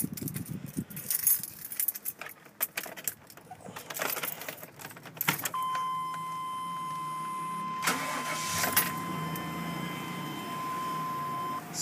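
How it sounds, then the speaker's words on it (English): Keys jangle and rattle close by for several seconds, then a 1998 Chevy Silverado Z71 4x4 pickup cranks and its engine catches, with a chime beeping inside the cab as the motor settles into a steady idle. "I'm going to go ahead and fire this thing up so you can hear what this thing sounds like here."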